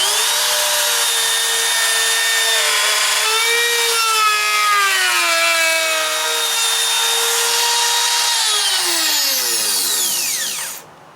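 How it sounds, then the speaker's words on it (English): A power drill and router cut openings in a wooden rear cabinet panel for a teardrop camper build, a loud continuous whine with pitch that sags under load and rises again, spinning down at the end; no talking. "I'll drill a hole and I'll router those out so it gives me a nice clean edge."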